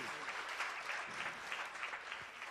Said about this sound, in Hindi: एक बार एक साथ ताली बजा दीजिए।